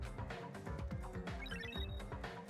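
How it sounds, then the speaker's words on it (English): A wall clock alarm in the lounge of the video game Danganronpa 2 rings as a rapid, continuous electronic bell trill lasting a couple of seconds, fairly faint and layered with musical tones. "The lounge's wall clock alarm started ringing at 5:30"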